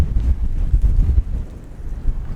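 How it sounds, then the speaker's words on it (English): Wind buffets the microphone in low, uneven rumbling gusts, loud and close, with no voices. "That's how windy it is. It's so windy."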